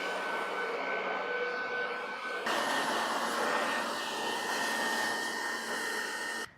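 A corded electric leaf blower runs close and loud, a steady high whirring rush of air clearing tabletops and stairs, with a brief shift in pitch partway through before it cuts off.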